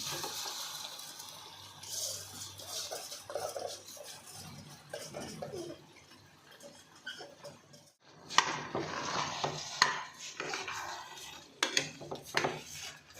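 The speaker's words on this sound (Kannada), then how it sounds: "ಈಗ ಅಕ್ಕಿ ಸೇರಿಸ್ತಾ ಇದ್ದೀನಿ" Soaked rice goes into a pot for soya pulao in a home kitchen: watery sloshing and pouring, light clinks of pot and utensil, quiet at first, then louder splashes and scraping in the second half.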